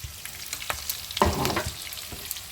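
Potatoes fry with turmeric and salt in a hot pan, giving a close, steady sizzle broken by a few stirring scrapes and one louder stir near the middle.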